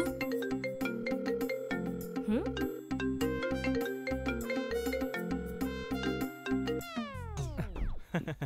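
A bright, repeating electronic phone ringtone melody plays on and on unanswered without pause, then ends with a quick descending sweep.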